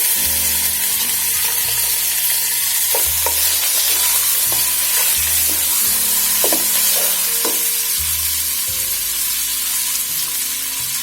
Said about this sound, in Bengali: পেঁয়াজটা ভাজা হয়েছে এখন আমি এখানে গরু মাংস দিয়ে দিচ্ছি হাফ কেজি